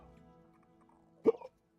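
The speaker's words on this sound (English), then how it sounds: "Fucking hiccups." A single hiccup bursts out near the end, loud and close after a stretch of quiet low hum from the Tainted Grail game, then silence follows.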